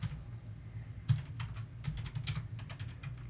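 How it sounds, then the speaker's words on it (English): Fingers typing on a computer keyboard, a quiet run of soft, irregular key clicks close by over a low background hum, with no speech. "I'll type in."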